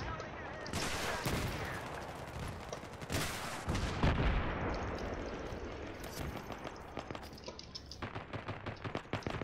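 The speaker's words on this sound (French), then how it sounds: "Ah, il me tire au pistolet aussi." Rapid bursts of gunfire crackle through a Battlefield 3 match on the Sharqi Peninsula map, with a pistol joining in and shots packed densely together, loud and close, over steady background combat noise.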